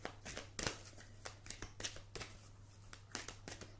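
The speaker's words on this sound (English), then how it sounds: "These cards are really big to shuffle." Oversized cards being shuffled by hand in quick, crisp riffling bursts separated by short pauses, close and fairly quiet.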